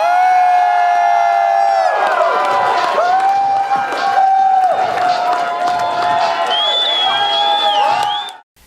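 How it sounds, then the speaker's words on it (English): A convention crowd at Crypticon 2015 cheers and whoops loudly. High voices rise and glide over a steady roar with some clapping, lasting throughout before cutting off at the end. "so we just wanted to give them a round of applause."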